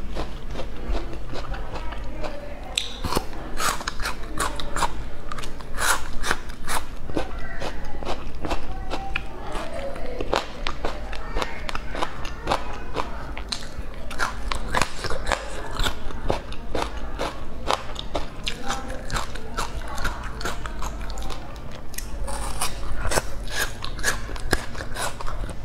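Close-up mukbang eating of chicken, sweet cookies, crabs and spicy noodles, with continuous crunching, cracking bites and chewing, at times under a person's voice.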